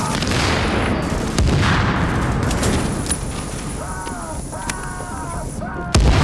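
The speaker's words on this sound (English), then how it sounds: "One of my favorite things to do is shoot the cleaners in their flamethrower tanks. Watch them try to grab it and then explode." Gunfire and flamethrower tank explosions in the video game The Division come as dense, loud rattling shots and booms, a sustained barrage that eases slightly before a final heavy blast.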